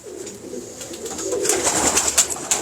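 Pigeons coo close by in soft repeated throaty calls, a few birds overlapping, with higher chirps rising toward the end.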